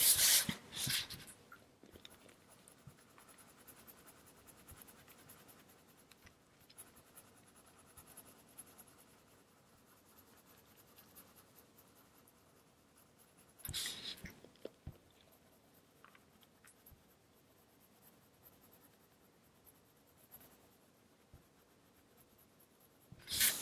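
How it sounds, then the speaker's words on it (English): A black pencil shades a drawing on paper with a very light touch, giving a continuous soft scratching that swells into louder strokes near the start, around the middle and at the end. "having a general shadow here on the left, added with the black pencil"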